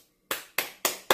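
Audience members clap at a Korean political gathering, four sharp, evenly spaced claps heard close and clear with no talk over them.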